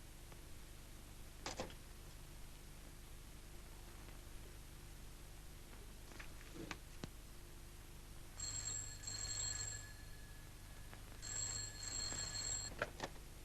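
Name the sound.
telephone ringing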